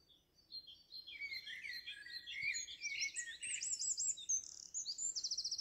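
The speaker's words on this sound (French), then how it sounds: "avec ses chants d'oiseaux" Birds chirp and trill in the early morning, a dense, bright chorus of overlapping tweets that starts faint and builds steadily, ending in a rapid repeated trill, with no voices present.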